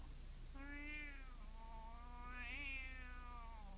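A white tomcat in an audio drama gives two drawn-out, close meows, each rising and then falling, separated by a short pause over a steady low background hum.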